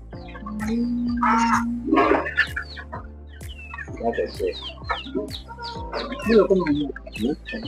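Hybrid chickens on a farm cluck and squawk close by, one drawn-out call followed by bursts of overlapping clucks and chatter, with some nearby human voices mixed in.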